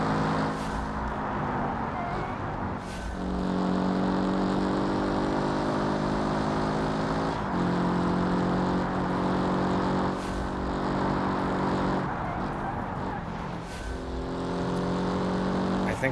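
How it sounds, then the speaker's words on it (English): A race car engine in the BeamMP driving game revs loud and steady, its rising pitch climbing through gears with brief dips at shifts every few seconds throughout. "I do like the sound of this engine, though. Could be a little bit more throaty,"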